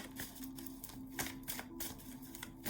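Oracle cards being shuffled by hand, a steady run of papery riffles and clicks close by, with no voices.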